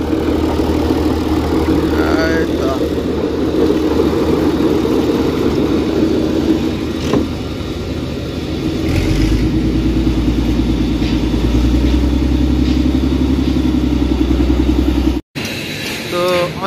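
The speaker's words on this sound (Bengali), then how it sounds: "এই মেশিনটির সাহায্যেই জাহাজ ভাসানো হয় জাহাজ টান দিয়ে ভাসানো হয়" Engine of the winch machine hauling the new catamaran ship Green Line-5 back for its river launch, a loud steady idling drone that deepens and strengthens partway through, with a brief cut near the end.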